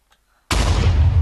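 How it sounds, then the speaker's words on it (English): A bomb blast in the video game Eronev 2: The Soul Cauldron, a sudden loud boom after half a second of near silence that stays as a dense rumbling roar to the end. "I can hear bombs going off everywhere."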